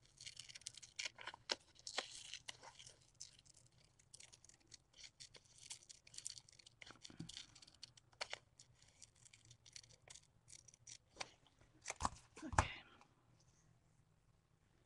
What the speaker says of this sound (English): Let me fussy cut her to get a better idea.